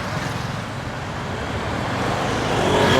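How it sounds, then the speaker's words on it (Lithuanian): Dense morning traffic on a busy road in Thailand, with many cars passing close by as a steady, loud roar of engines and tires that swells slightly toward the end. "Čia vienoje vietoje turiu kirsti tokį kelią, kur daug mašinų važiuoja."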